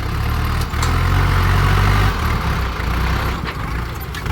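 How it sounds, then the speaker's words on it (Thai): A tractor engine runs while pushing and levelling ground, a loud, close low rumble with a steady idling throb and slight shifts in load. "เอารถไถดันให้มันเรียบดีกว่า"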